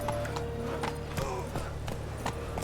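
Roach the horse in The Witcher 3: Wild Hunt, hooves clopping in a quick, steady galloping rhythm under a low game background hum.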